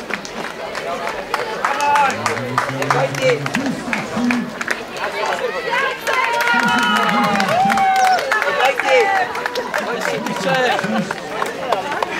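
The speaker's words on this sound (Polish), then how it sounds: "wielkie brawa dla wszystkich" Applause for runners crossing the finish line at the XXXV Bieg Krotosa race, a steady patter of clapping from the crowd running under a loud announcer's voice throughout.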